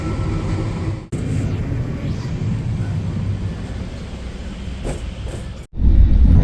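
Chambal Express passenger train running, a loud continuous rumble and rattle from on board, cut by two brief abrupt dropouts, with the heavy roar returning at the end.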